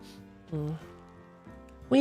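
A voice imitates a cat meowing, two drawn-out mews with a short pause between them, close and fairly quiet, ending on a louder, higher cry.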